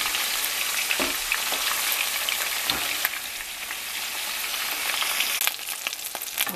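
Chicken sears in a hot pan for teriyaki, with a steady, loud, continuous sizzle and a few sharper crackles and pops, and no voices over it.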